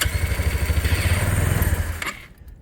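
A Lexmoto Diablo motorcycle engine cranks and sputters in a rapid pulsing chug as it tries to start, loud and close, before cutting out abruptly near the end.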